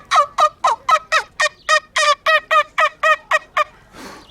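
A turkey call imitating a hen turkey calling a tom, a rapid series of about fifteen loud, sharp yelping clucks in steady rhythm, close and alone, ending with a breathy rustle.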